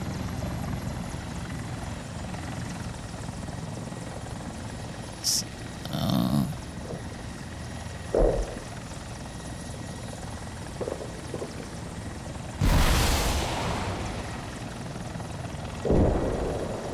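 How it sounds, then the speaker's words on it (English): A Mi-24V attack helicopter flying in the combat video game War Thunder, its rotor and turbine drone continuous and moderately loud, broken by a few sharp bursts of in-game weapon or impact noise. "Well, here we are with the Mi-24. The V version."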